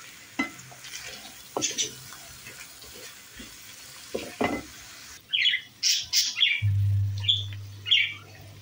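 Minced meat filling with red bell pepper sizzling in a pan, with intermittent scraping and stirring strokes of a utensil; a steady hiss runs under the scrapes, which grow busier and louder toward the end.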